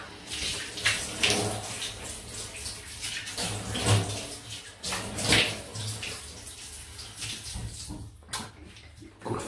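Water from a tap running in a bathroom sink for a quick rinse during a wet shave with a razor, a close splashing flow with uneven bursts, heard alone without talk.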